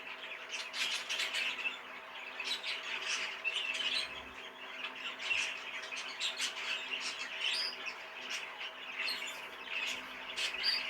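A heavily variegated yellow Fife canary hen calls with a busy stream of bright chirps and short squawky notes, nearby and continuous, against a faint background hum.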